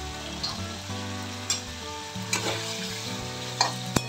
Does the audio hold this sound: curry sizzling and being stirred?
yes